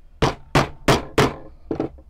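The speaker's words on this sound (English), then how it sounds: "now it's just a case of putting the awl when you want it, hammer through" An awl hammered through leather while making a Bowie knife sheath: five sharp, loud, close knocks at a steady pace, the last ones lighter and quicker, with no talking.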